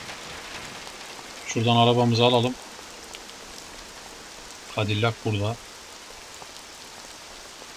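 Steady rain on surfaces in the Mafia video game, a continuous soft hiss running throughout while someone speaks in two short bursts over it.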